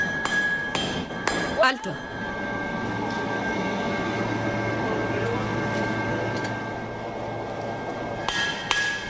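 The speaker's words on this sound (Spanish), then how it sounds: "Cuando al cobre se le golpea con el martillo" A hammer strikes a copper billet being beaten into sheet, with a few ringing metallic blows early on and more near the end over a steady background roar; a single word is spoken briefly.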